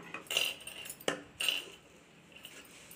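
Scissors cutting handbag material for a party-wear bag: a few crisp snipping and metallic clicks spaced through the moment, close and fairly quiet, with no talking.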